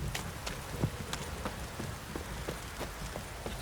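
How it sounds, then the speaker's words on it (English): Steady heavy downpour in the video game Witcher 3, a dense wash of rain with scattered sharper drop patters throughout and no voices. "This downpour's a bastard, it is."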